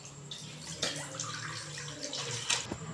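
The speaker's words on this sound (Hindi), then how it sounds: "कढ़ाई के अंदर हमने दूध डाल देना इस तरह से" Milk poured into a kadhai for a custard ice cream recipe gives a soft, steady liquid splashing and trickling sound, quiet and close, with a few small clinks.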